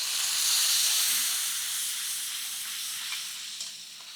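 Tomatoes sizzling in a hot pan with cloves, cumin and asafoetida, a steady loud hissing sizzle that eases off slightly over a few seconds, with no talking.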